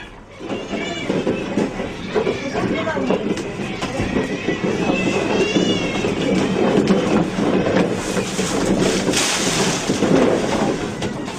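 Many cats, around 130 kept by one woman, meow in a news clip as a dense chorus of overlapping cries mixed with clattering background noise.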